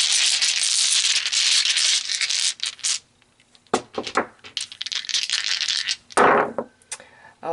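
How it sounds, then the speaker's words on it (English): Dice rattle and clatter as they are shaken and tossed during a tarot reading, with bursts of crisp clicking and tumbling separated by short quiet gaps. "So let's pull some dice."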